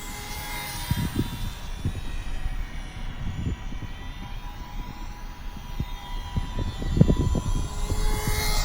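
ParkZone Ultra Micro Spitfire Mk IX RC plane flying outdoors on a breezy day, its small electric motor giving a thin, steady whine amid wind rumble and gusty buffeting, moderately distant.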